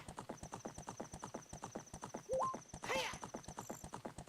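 Epona's hooves clip-clop in a quick, steady galloping rhythm in Zelda: Ocarina of Time, joined briefly by a neigh and a short chime, while a voice talks over the ride.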